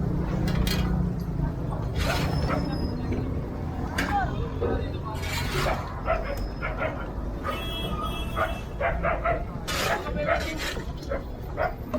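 A dog barks and yips in scattered bursts at a moderate distance, with people talking and outdoor background noise throughout.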